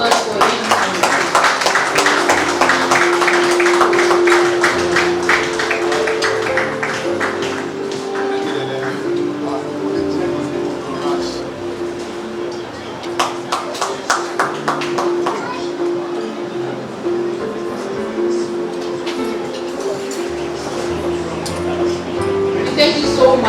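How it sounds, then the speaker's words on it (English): Clapping from a dinner audience at an awards night, a round of applause mixed with crowd chatter and children's voices, steady throughout with a denser burst of claps partway through. "A round of applause for him."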